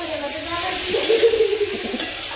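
Spiced kidney beans with garam masala are stirred in a hot pan, giving a soft scraping and a steady low sizzle.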